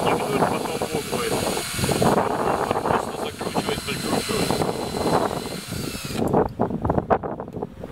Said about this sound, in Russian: Теперь надо высверливаем дырочки. Сверливаем.